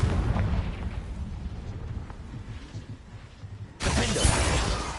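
Confringo spell explosion in Hogwarts Legacy, a booming blast with crackling debris that fades, then a sharp new burst of noise near the end.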